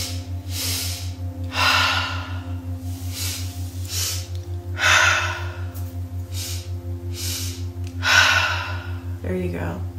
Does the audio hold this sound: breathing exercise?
yes